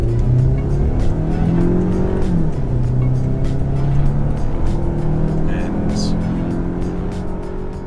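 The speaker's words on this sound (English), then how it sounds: "Wheel spin." A car launches from a standstill in a 100 zone with wheel spin, its engine roaring loud and close over tires squealing, and the pitch climbs and shifts as it pulls away.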